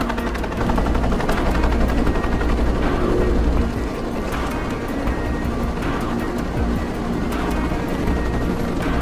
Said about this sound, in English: Nishimura's got a chopper outside waiting for you.